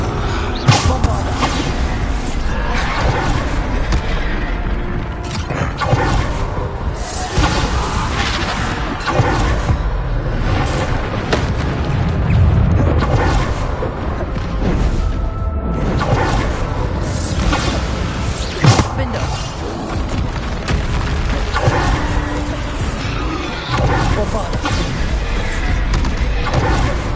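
Repeated heavy booming blasts of the Bombarda explosion spell in Hogwarts Legacy on PS5, dense and loud amid whooshes, crashes and continuous game-battle noise with voices calling out throughout.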